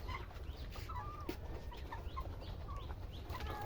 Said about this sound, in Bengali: বিশাল বড় মুরগির ফার্ম।